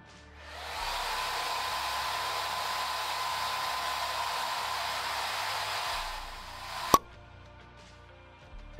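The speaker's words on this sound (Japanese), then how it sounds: "ドライヤーで乾かしていきます" A hair dryer blows steadily on hair after a treatment is applied, starting up, running loud and constant for several seconds, then cutting off with a sharp click.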